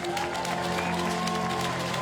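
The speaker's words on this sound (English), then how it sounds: "The crowd would acclaim Mickey Bushell." A stadium crowd at the 2014 IPC Athletics European Championships in Swansea applauds an athlete with a steady, dense wash of clapping and cheering, continuous throughout at moderate distance.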